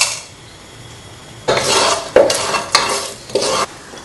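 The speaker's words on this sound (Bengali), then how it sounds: "আমার মশলাগুলি ভাজা শেষ।" Whole garam masala spices fry in two spoonfuls of oil in a hot pot for chicken biryani, with a soft sizzle broken by several sharp bursts of stirring and scraping against the pot.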